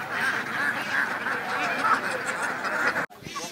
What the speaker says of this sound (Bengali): যা আছে সবই হাঁস অধিকাংশই রাজহাঁস পাতি হাঁস বিভিন্ন ধরনের হাঁস